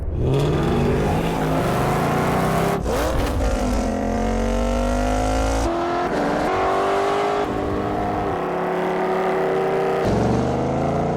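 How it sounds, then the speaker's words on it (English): A Ford Mustang engine revs loudly and continuously in an advert, rising and falling through several throttle blips with a deep, rumbling exhaust tone. "Ford Mustang."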